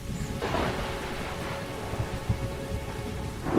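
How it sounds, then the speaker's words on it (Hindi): Heavy rain pouring steadily in a cartoon village scene with a farmer's home, with rumbling thunder rolling underneath, a continuous dense wash with low booms swelling in and out. "अब तक बारिश छूटने का कोई नामो निशान नहीं"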